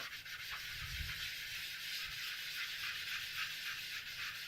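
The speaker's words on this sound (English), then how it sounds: "I'm just going to rub a bit off on the side first, and then this will be our background sky." A sponge rubs ink onto cardstock for a Stampin' Up! shadow box card, a close, quiet, steady scrubbing of rapid back-and-forth strokes with no talk.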